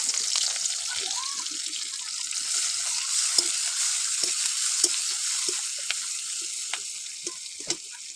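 Chopped onion sizzles and crackles in hot oil in a wok, a steady bright frying hiss with scattered pops and occasional stirring clinks, fairly close.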